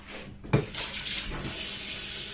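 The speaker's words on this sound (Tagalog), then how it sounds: "Hugasan ko lang saglit." Meat being rinsed under a running kitchen tap, water splashing in a steady stream with a brief louder splash at the start, fairly faint and close, no talking.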